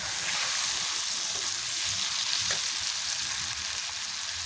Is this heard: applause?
no